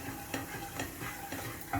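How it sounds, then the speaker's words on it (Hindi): Coriander, chilli and turmeric powders sizzle and fry in hot oil, with a steady crackling hiss and soft stirring scrapes up close. "ये सारी पाउडर डालना है और इसको थोड़ा भुनना है तेल में"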